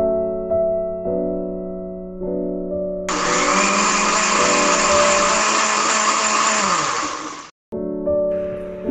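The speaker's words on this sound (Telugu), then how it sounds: "పుదీనా తెంపి పచ్చిమిర్చి, ఎల్లిపాయలు, మిరియాలు వేసి మిక్సీ పట్టుకోవాలండి" A mixer grinder grinds mint, green chillies, garlic and pepper in a loud, steady whir of about four and a half seconds that starts and stops abruptly, set against a sustained tonal background.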